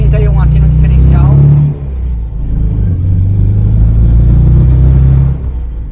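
A 1982 Volkswagen Gol LS with an 8:31 differential ratio and 13-inch wheels is out on its first drive. Its engine gives a loud, close, throaty hum that revs and holds, eases off briefly, then pulls again.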